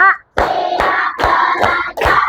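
A school class claps in five counted bursts, each a sharp group clap ringing out in an even rhythm, loud and close, with a brief voice just before the first clap.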